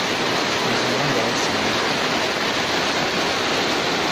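A downpour drums without pause over the open-air Martapura market, a loud, even hiss and rush close by, with no voices breaking through.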